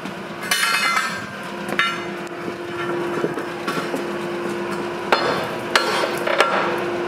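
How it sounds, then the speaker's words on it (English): Hammer blows on the tip of a huge forge-heated hot knife, sharp metallic strikes spaced irregularly over a steady roar of a running forge, fairly close and loud. "hammer out the tip."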